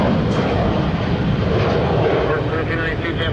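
Aircraft engine noise at Tampa International Airport, a broad steady roar from a plane moving nearby, loud and continuous with slight swelling, heard alone without clear talk.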